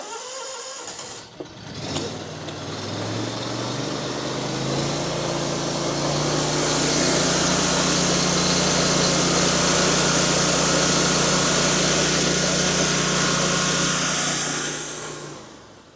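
Small engine starts and then runs steadily at about 3,600 RPM, a loud, constant drone with a sharp start near the beginning and a cutoff at the end, no talking.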